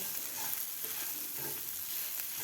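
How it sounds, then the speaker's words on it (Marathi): Spices and onion-garlic masala with peanuts sautéing in a pan over a medium gas flame for a dry cowpea-pod bhaji, giving a steady, soft sizzle and crackle throughout with no talking. "हे सुद्धा आपल्याला व्यवस्थित मिडियम गॅसवर परतून घ्यायचं आहे"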